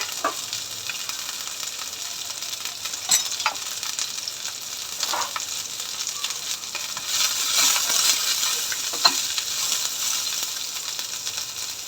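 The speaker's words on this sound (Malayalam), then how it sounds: "കോളിഫ്ലവർ ഇച്ചിരി ഒന്ന് വറുത്തെടുക്കുന്നുണ്ട്." Cauliflower pieces fry in oil on a stainless steel tawa over a high flame, giving a steady, close hissing sizzle with occasional soft stirring scrapes and clinks throughout.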